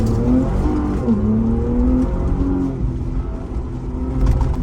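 A Ford Bronco Raptor in Baja mode accelerates hard across a high-speed desert off-road course in Johnson Valley, its engine note rising and shifting loud and close for the whole stretch, with no talking.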